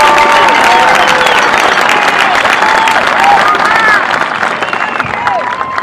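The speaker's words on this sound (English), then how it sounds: "So let's give everybody another round of applause for helping to get you here." Graduation-ceremony audience at Santa Fe High School applauding in a loud, sustained, dense wash of clapping with crowd noise and scattered cheers, steady for the whole stretch.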